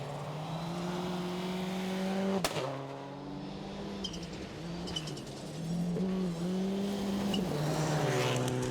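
A Subaru rally car drives a stage, its engine droning and shifting pitch as it passes, with a sharp crack mid-pass; birds coo and chirp in the background throughout.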